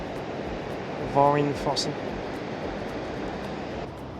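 A waterfall in Norway roars continuously with steady rushing water, with a brief voice speaking over it partway through.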